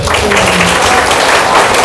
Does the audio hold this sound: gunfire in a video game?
no